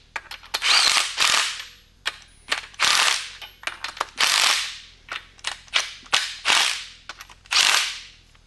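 Torque wrench ratcheting engine bolts down on a Chevy 235 inline-six, loud close bursts of rapid clicking in uneven sweeps, with short gaps and sharp single clicks between strokes.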